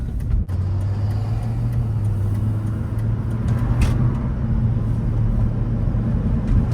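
A 2004 BMW 325ci E46 under way, its engine a steady low drone with a brief dip early on as the transmission shifts, road rumble continuous and close throughout.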